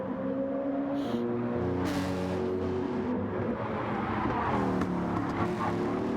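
Race cars on the Deep Forest track in a racing video game, several engines droning and shifting pitch together at steady volume, with one whooshing past partway through.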